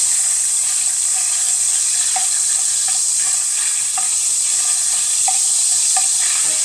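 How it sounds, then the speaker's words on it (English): Butter melting in a pan for Jamaican-style steamed cod gives a steady, close sizzle with faint crackles and occasional small pops, no talking. "While we just get all of that butter melt,"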